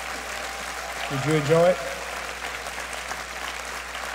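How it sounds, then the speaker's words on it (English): A congregation at a Christian ministry gathering applauds in a soft, steady wash, while someone speaks over the clapping. "Give the Lord a hand clap for that."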